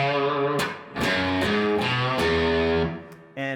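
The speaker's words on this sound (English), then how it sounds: "I'm just striking my picking hand through the strings without fretting it." A distorted electric guitar is strummed with muted, unfretted strings, the picking hand raking through them in a few scratchy percussive strokes mixed with ringing chords, loud and alone.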